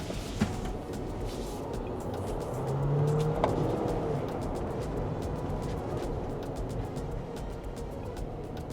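Cabin of a Denza B8 on a test drive, a steady low road and tyre rumble with faint wind noise, swelling slightly and then holding even, with no talking.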